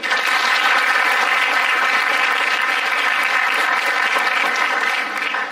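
Audience at a marketing panel event at IIM Amritsar breaks into a loud, sustained round of applause, dense even clapping that holds steadily for the whole five seconds.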